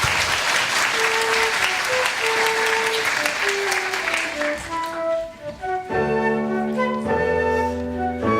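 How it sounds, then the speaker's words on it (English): Audience applause for a primary school choir about to sing a song on the suffragettes, steady dense clapping filling the hall before fading as piano-like sustained music notes rise and take over. "Round of applause for these guys,"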